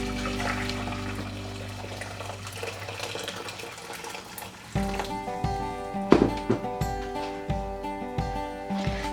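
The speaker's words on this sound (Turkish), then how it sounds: "tenceremize suyu ilave edelim." Water gushes and splashes continuously for a few seconds into a cooking pot for okra soup, then shifts to a ringing, clanking series of metallic hits and bubbling, fairly close by.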